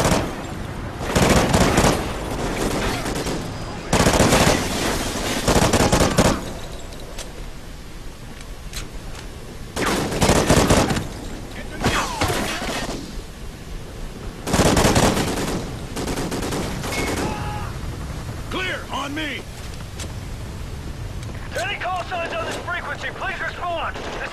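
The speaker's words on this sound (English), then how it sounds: "We have eyes on Almagro, but are taking fire, just west of the hotel" Automatic gunfire and heavy bursts in a Call of Duty Ghosts firefight, loud, dense and repeated in clusters, with shouted radio-style voices and explosions across the scene.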